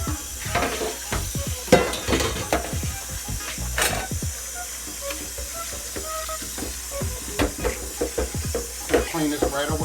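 Vegetarian spaghetti ingredients cooking in a skillet, sizzling under frequent sharp scrapes and clacks of a utensil stirring against the pan, with a voice briefly audible.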